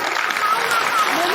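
An audience at a Hindi poetry gathering claps for a poet, a dense, even burst of applause heard over a speaking voice.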